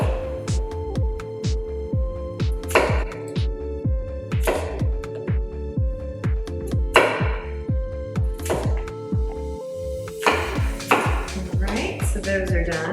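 A knife cubes potatoes rapidly on a cutting board in steady, repeated thuds, close and crisp, with occasional clinks between the strokes.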